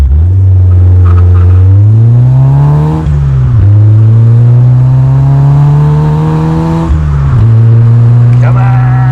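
A Vauxhall Nova GSI accelerates hard through the gears from inside the cabin. The engine drone climbs loud and strained, drops briefly at each gear change, then rises again.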